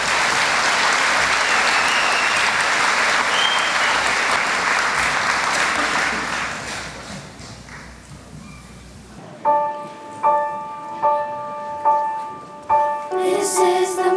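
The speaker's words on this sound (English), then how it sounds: "Let's give them a round of applause, please." Audience applause for the Crestview Choir at a dedication ceremony, a dense wash of clapping that gradually fades away, followed by a run of ringing bell-like tones struck one after another.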